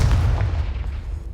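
A Confringo fire spell from Hogwarts Legacy blasts with a loud, close, deep boom that rolls into a fading rumble, with no voices alongside.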